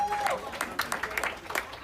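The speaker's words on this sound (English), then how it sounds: "Another big round of applause." A conference audience gives a brief burst of applause, a dense patter of clapping across the short moment, moderately loud and close.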